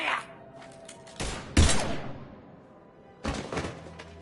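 Heavy gunshots ring out in Mass Effect Legendary Edition, a few separate loud blasts with echoing tails spaced by quieter gaps, no talking over them.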